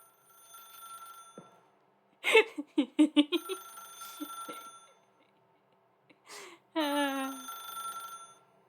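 An old-fashioned telephone in the video game The Stanley Parable rings in loud, rapid bursts of bell trills separated by pauses, clear and close, with a ringing tone that rises and falls.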